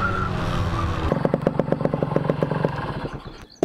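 A 1997 Yamaha RX 135 two-stroke motorcycle engine idles, then breaks into a rapid crackling, popping burble, close and loud, before cutting off abruptly near the end.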